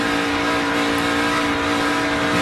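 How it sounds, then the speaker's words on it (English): Race car engine in a 2010 NASCAR Nationwide Series race at the campingworld.com 300, the driver feeding the throttle, giving a steady, loud, dense roar with a slight rising rev through the short stretch. "You can hear he was feeding the throttle there"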